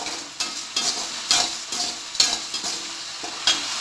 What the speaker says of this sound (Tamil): இதை வந்து கொஞ்சம் வறுத்துக்கலாம். ரொம்ப கருக்காமல் கொஞ்சம் லைட்டாக வறுக்கணும்.